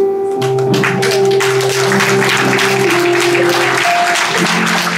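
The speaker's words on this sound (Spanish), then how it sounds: "Muy bien, esas palmas." Guests clap together at a quinceañera celebration in Lima, a steady patter of hands under sustained music, fairly loud and close.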